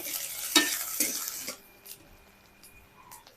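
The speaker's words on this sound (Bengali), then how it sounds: "তেলটা ভালো মতন গরম হয়ে গেছে এবার আমি দিয়ে দিচ্ছি আদা কুচি আর রসুন কুচি সাথে দিয়ে দেবো পেঁয়াজ কুচি" Chopped ginger, garlic and onion dropped into hot oil for a vegetable roll filling, a bright hissing sizzle with a couple of utensil clinks that fades to a quiet simmer after about a second and a half.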